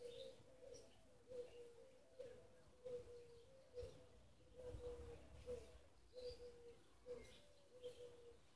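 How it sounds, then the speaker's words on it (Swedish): Soft, repeated cooing calls from doves at moderate distance in the village of Čekmin on a July summer day, recurring every second or so against a faint outdoor background with occasional chirps. "Lyssna på fåglarna, duvorna."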